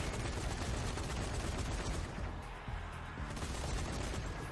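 Heavy, continuous machine gun fire in the zombie shooter Zombie Army 4: Dead War, a dense wall of overlapping shots and impacts that barely lets up, with a few louder bursts.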